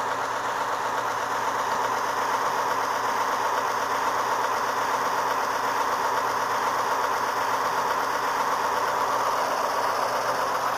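Model Burlington Northern diesel locomotive by Atlas with a Tsunami sound decoder idles in a steady, droning chug with a rhythmic knock, even and continuous at moderate volume with no voices.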